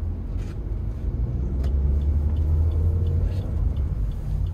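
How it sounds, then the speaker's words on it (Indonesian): A Suzuki Ertiga pulls away from a standstill up a gentle incline, its engine revving in a steady low rumble with a continuous drone throughout, close and fairly loud, no voices. "Handbrake kita lepas sambil ngelepas kopling sambil nambah gas."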